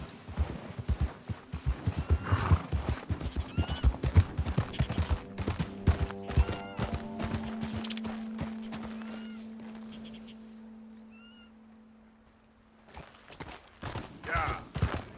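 A horse in Red Dead Redemption 2 gallops in fast, rhythmic hoofbeats that stay close and loud, then fade out near the end before picking up briefly again. Other game sounds ring out faintly under the gallop.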